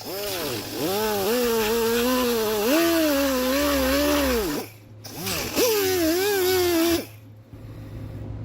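A power cutting tool trimming around the edges to open an Oracle Lighting illuminated letter housing, a loud whining drone that rises and falls in pitch through two long cuts with brief pauses between.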